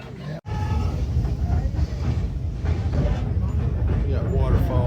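White Pass Railway excursion train rolling on rails, a steady low rumble with rhythmic wheel clatter from inside the car, and people talking over it.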